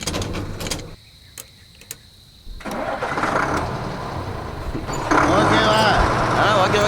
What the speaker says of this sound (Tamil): நியூட்ரல் போட்டு வண்டி ஸ்டார்ட் பண்றா.